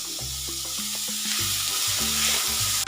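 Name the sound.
chopped onions sautéing in butter on high flame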